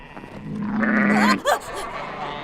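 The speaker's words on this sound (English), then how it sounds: "That's a goat." A single goat bleats, a drawn-out, wavering cry that rises and breaks off, heard fairly close and mostly on its own.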